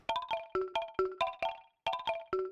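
Unfiltered Galen Tipton one-shot: quick bright chime-like plucks in a rapid melodic run, two phrases separated by a brief pause, sharp attacks with ringing harmonics, clear and close with no voices.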